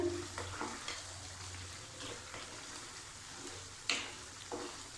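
Chicken being sautéed in oil for achari chicken, a soft continuous sizzle with scattered stirring scrapes and clinks of a spoon against the pan, fairly faint and close.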